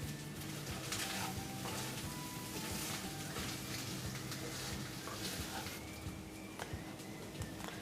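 600 grams of rice are tossed into Schezwan egg fried rice in a hot pan, giving a steady sizzle with repeated scraping and stirring strokes close by and no voices.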